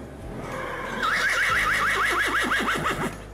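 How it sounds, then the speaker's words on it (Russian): A horse neighs loudly, a long shrill whinny that quavers in a rapid wavering trill and then drops off into snorting breaths, close and clear over a low background hum. "перевести это можно как ржать, но имейте в виду, что ржать громко"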